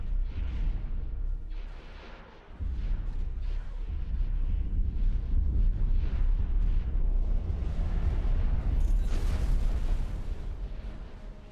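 Turret weapons firing during a space battle in the game X4, a steady rumbling barrage of booms and explosive bursts, continuous and loud with a low heavy roar.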